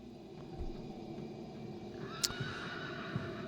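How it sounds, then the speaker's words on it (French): Horses neighing in the intro of a 2019 album, a whinny rising out of a droning, hazy music bed with a few faint hoof thuds, moderately distant. "Il y a même des chevaux. On entend des chevaux."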